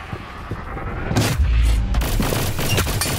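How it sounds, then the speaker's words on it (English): A loud burst of enemy gunfire in the Hyper Scape video game, rising about halfway through into heavy booming shots over dense game noise. "enemy fire"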